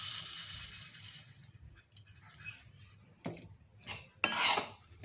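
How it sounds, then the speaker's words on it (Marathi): Sugar pours into a pan of ghee-roasted, reddish-golden semolina for Marathi-style shira, giving scattered metallic clinks and brief rustling bursts near the end over a quiet background. "आता आपण त्याच्यामध्ये साखर टाकून घेऊ।"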